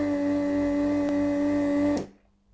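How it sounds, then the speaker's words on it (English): Desoldering gun's vacuum suction pump drawing air through a glass chamber, a steady loud mechanical hum with a strong tonal whine that cuts off abruptly after about two seconds, heard alone. "the suction machine will make a vacuum in this chamber"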